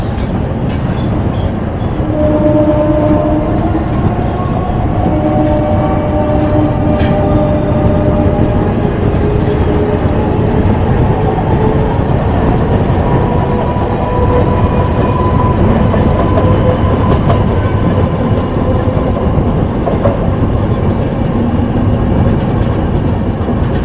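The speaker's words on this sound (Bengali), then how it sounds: "রাজধানী 20506 আর লোকাল ট্রেনের মধ্যে এখানে একটা কিন্তু রেস হচ্ছে," Rajdhani Express 20506 runs alongside a local train in a race, a loud, continuous rumble of rolling wagons with rising and falling wheel squeals and a steady rhythmic clatter, close by and without voices.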